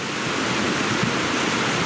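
Floodwater rushes in a steady, roaring wash during a landslide in Sikkim, loud and continuous broadband noise with no voices.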